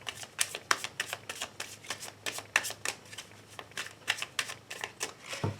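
Tarot cards being shuffled and cut by hand, a steady run of crisp riffling flicks and soft slaps with no talking, fairly close and even in loudness throughout.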